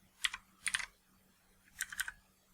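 Keys on a computer keyboard are tapped in three short clusters of clicks separated by pauses, close and crisp against a quiet background.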